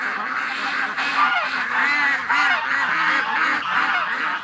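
Ducks on a winter pond keep up a dense, continuous chorus of honking, quacking calls, overlapping and fairly close, with no pauses across the whole stretch.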